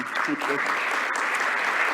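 Seminar attendees clap in a brief, even burst of applause, a steady hiss of many hands lasting two seconds while a speaker talks briefly over it.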